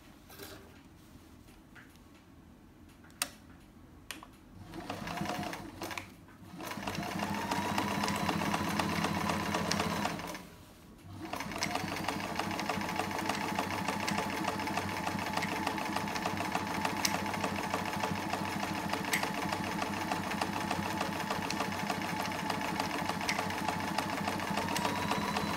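Sewing machine zigzag stitching a fabric chair pouch, running in long steady whirring bursts with a couple of short pauses, close and fairly loud, no talking.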